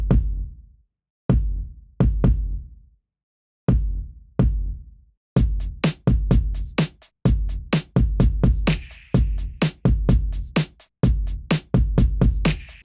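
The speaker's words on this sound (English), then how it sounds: "I bring back the hi-hat. Now I'm introducing a shaker as well on the left side and just kind of an" Drum beat that starts with sparse heavy kick hits, then adds a steady hi-hat and two shakers for a busier, looping pattern, loud and upfront with no voices.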